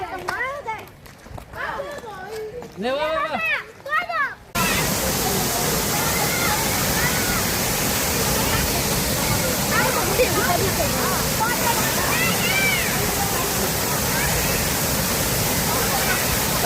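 Steady broadband roar of the waterfall at Sorimuthu Ayyanar temple fills the scene once it begins, loud and continuous, with children's voices and splashing mixed in and people talking before it starts.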